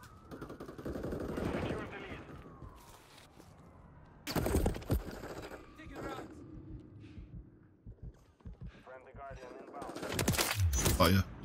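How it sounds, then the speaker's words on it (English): Gunfire in a video game beta, scattered bursts of shots with loud clusters midway and near the end, quieter stretches between, with people talking over parts of it. "I think so, but I'm getting shot at"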